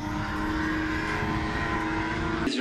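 A turbocharged BMW E30 race car with an M50B30 engine runs on track, a loud sustained engine drone with steady harmonics, ending with a brief sharp noise burst.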